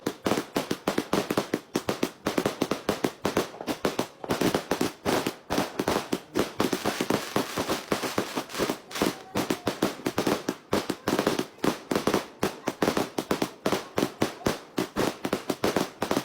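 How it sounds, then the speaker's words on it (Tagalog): Dense, nonstop crackle of New Year firecrackers going off outside, rapid loud bangs in an irregular string that never lets up. "Sorry sa medyo maingay kasi syempre New Year ngayon kaya ang ingay dyan sa labas."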